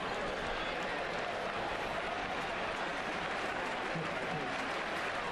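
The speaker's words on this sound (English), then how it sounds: "Those people clapping, they're all from Sacramento" A baseball crowd of fans from Sacramento claps in the stands, a steady, dense wash of applause and crowd noise that runs unbroken at an even level.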